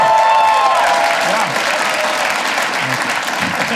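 Audience applause at a stand-up comedy show, a loud, sustained burst of crowd clapping with cheering mixed in and a brief high tone at the start, steady throughout.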